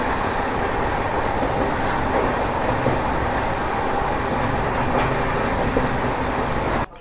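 A passenger train rolls along while travelling through North India in winter, heard from on board as a loud, continuous rumble of wheels and carriage noise with faint rhythmic clacks, cutting off abruptly at the end.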